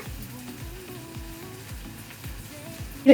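Tomatoes fry in a pan for lady's finger (bendekaai) pulav, giving a soft, steady sizzle with a few light stirring taps, close and fairly quiet, with no talking.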